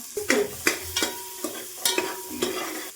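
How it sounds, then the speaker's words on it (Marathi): Onion frying in butter and oil for pav bhaji sizzles steadily while a spoon scrapes and stirs the pan in repeated close, rhythmic strokes, with no talking. "कांदा गोल्डन फ्राय उस्त तळून घ्या"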